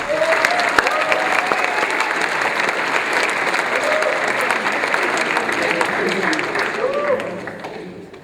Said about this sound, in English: we're going to give a round of applause to Macy's